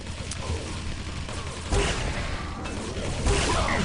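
Railgun shots crack in a Quake Live team deathmatch, several sharp bursts landing amid dense game noise of weapon fire and movement, with no speech.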